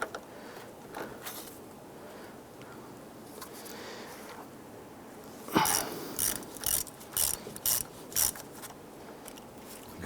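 A ratchet with an 8mm socket clicks repeatedly while loosening the negative battery terminal on a 1995-2001 Ford Explorer, in short, close bursts of rapid ratcheting after a quiet stretch.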